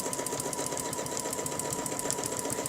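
A sewing machine stitches fabric along a quilting ruler with a continuous, even motor hum and a rapid needle rhythm that holds steady throughout at close range.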